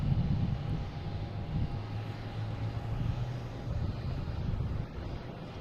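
A JetBlue airliner at Boston Logan International Airport rumbles steadily with a broad low engine roar and a faint whine, with light wind noise on the microphone and no talking.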